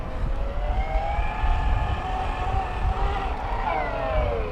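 A YikeBike Model V electric folding bike passes at speed, its motor giving a steady layered whine that wavers in pitch and shifts near the end as regenerative braking kicks in, over a constant rushing background.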